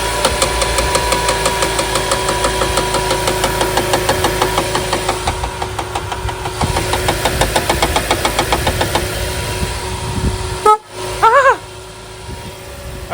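A Nissan Kicks engine idles steadily after an oil change, a close, even mechanical ticking and hum that keeps a regular rhythm, briefly interrupted near the end by a short clatter.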